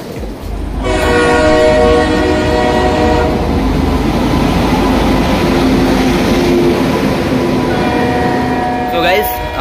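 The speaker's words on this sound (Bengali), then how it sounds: "আমাদের ট্রেন চলে আসছে" A passenger train pulls into a station with a loud, sustained horn blast and heavy rumbling of the carriages, close by and dominating the whole stretch.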